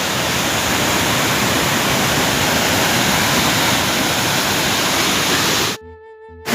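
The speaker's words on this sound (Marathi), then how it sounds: "हा काय एक नवीन धबधबा." A monsoon waterfall at Malshej Ghat roars in a loud, unbroken rush of falling water close by, cutting off abruptly near the end.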